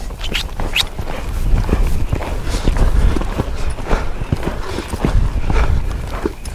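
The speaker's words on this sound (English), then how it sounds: "See if we can lope him around a little bit." Hoofbeats of a wild mustang horse loping around, a steady rhythmic drumming of hooves on soft ground, close and fairly loud, with faint rustling over it.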